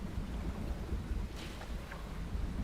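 Stormy sea in the fishing game Dredge: a steady low rumble of wind and rolling water with a faint distant crackle of thunder, continuous and without voices.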